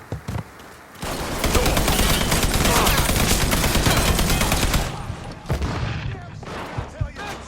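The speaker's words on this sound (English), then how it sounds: "Grenade going out." In the Mafia III video game, a grenade blast and a sustained burst of heavy gunfire roar loud and dense for several seconds, then taper into scattered shots with voices nearby.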